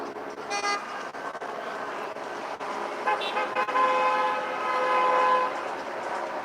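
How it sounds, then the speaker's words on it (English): Horns sound from passing traffic at an outdoor street protest, a sustained horn tone standing out over a steady background of crowd and traffic noise, loudest in the second half. "obviously you got people honking,"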